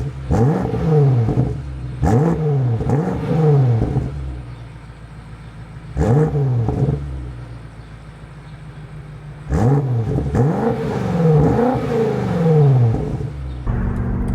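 Jeep Trackhawk exhaust barking through repeated loud, close revs: a burst of several quick throttle blips, a pause, a single rev, then another run of rising and falling revs over a steady idle.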